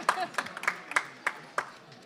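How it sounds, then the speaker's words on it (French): An audience at a French startup and small-business conference applauds with sparse, evenly spaced claps about three times a second, fairly quiet, with a faint voice underneath. "Vous êtes applaudi par l'audience."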